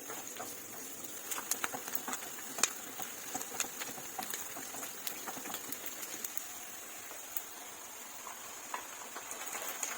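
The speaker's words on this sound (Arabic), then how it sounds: "هنشوحه كده في الزيت لغاية لما لونه بس يبدأ يدبل شوية" Onions cut into wedges are sautéing in hot oil in a frying pan while chicken shawarma is cooked at home. A faint, steady sizzle carries scattered soft crackles and pops throughout, with no talking.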